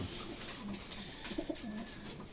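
A tired racing pigeon, back from a race, coos softly a few times, low, gentle calls over a hiss of background noise.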